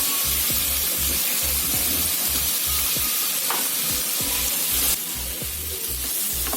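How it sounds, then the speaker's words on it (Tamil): Ground garlic paste and softened onion sauté in a hot pan for paneer fried rice, giving a steady, close hiss of sizzling oil that runs throughout with no pause. "இதுக்கப்புறம் அரைச்ச பூண்டு போட்டுக்கலாம்."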